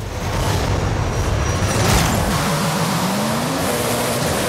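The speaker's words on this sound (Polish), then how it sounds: "Wciskam gaz do końca." Car engine in Forza Horizon 5 revving hard at full throttle with launch control engaged, a loud sustained roar with a rising, wavering tone over steady road rumble.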